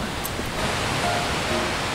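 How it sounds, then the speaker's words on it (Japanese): Steady broadband rush of a waterfall near Kawaji Onsen in Tochigi, heard from a spot on a tandem motorcycle ride, continuous and fairly loud with no talk over it. "滝があるんですね"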